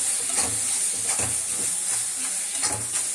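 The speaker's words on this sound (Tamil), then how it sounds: "இப்போ இந்த மிளகாத்தூள் பச்சை வாசனை போகிற வரைக்கும் நல்லா வதங்கட்டும்." Chili powder masala sizzles and fries in a pan with soft stirring scrapes, a steady close hiss with gentle rhythmic spoon strokes about every half second.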